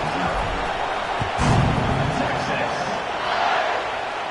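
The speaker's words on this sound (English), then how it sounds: "this crowd is feeling themselves after that last drive" Football stadium crowd at a Texas A&M at Texas game roaring steadily during a kickoff, a broad continuous wash of cheering with a brief swell midway, loud and sustained.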